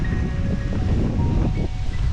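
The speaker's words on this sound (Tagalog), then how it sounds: "Medyo nalakas yung hangin dito" Steady low roar of strong wind buffeting the microphone near a staircase at Imelda's Garden in Cuenca, Batangas, loud and continuous with slight gusting, no one speaking.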